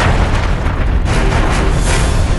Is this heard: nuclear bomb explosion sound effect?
yes